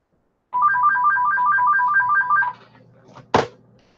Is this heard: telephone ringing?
yes